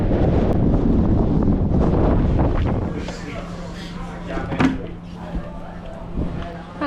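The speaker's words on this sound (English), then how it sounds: "Oh, it's windy." Strong wind on a hiking trail in Sardinia, Italy, buffets the microphone in loud rumbling gusts that ease off halfway, leaving lighter wind noise with faint voices.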